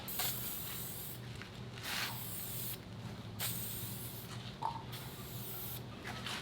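Aerosol adhesive primer sprayed onto a pickup truck's rust-repaired rocker and cab corners, heard as several steady hissing bursts separated by short pauses, close and fairly quiet.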